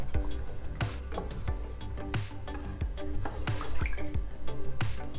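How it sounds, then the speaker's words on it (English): Water poured into a pot of measured rice for chicken congee, with repeated dripping and splashing strikes against a steady liquid rush, fairly close and continuous. "Now I'm adding water."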